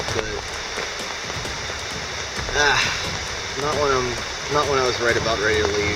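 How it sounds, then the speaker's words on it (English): Heavy rain pours down steadily on a hammock campsite along the Gerard Trail at Oil Creek, Pennsylvania. The constant hiss sits underneath a person talking. "it started raining, and it is absolutely downpouring"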